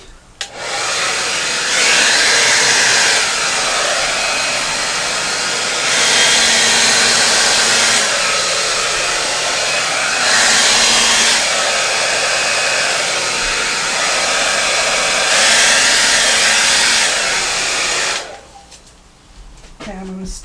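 Hair dryer blowing steadily at close range over an acrylic Dutch pour on a 12x12 canvas, running nearly 18 seconds with slight surges in pitch and force before cutting off.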